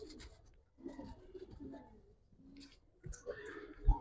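High flyer pigeons coo softly nearby in a series of low, rolling calls with light clicks and rustles, fairly quiet with short pauses between bursts.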